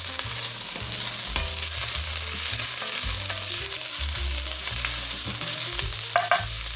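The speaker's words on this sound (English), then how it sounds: "add in your minced garlic, and we're going to let that saute for 1 minute" Minced garlic sautés in a pot for chicken meatball orzo soup, giving a steady, close frying sizzle broken by occasional light scrapes and clinks of stirring.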